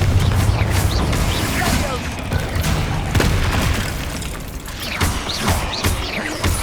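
Fiery Confringo explosion spells blast out in Hogwarts Legacy combat, with repeated booming bursts and crashing impacts over a dense battle din, while a voice speaks the incantations aloud.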